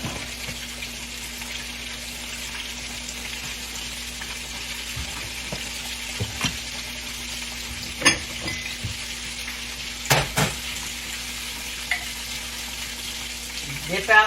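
Hush puppies frying in a pan of hot grease, a steady low sizzle throughout with occasional louder pops and clinks, up close and unbroken by talk.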